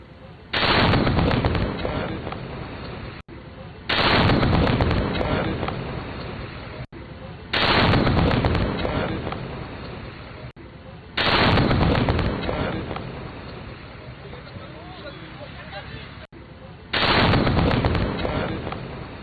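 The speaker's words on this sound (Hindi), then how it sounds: "ये जोरदार धमाका होता है" Several loud, booming blasts spaced a few seconds apart, each a broad burst that rumbles and slowly fades, with no voices, from a controlled detonation of an IED found in an unattended bag at Ghazipur Mandi.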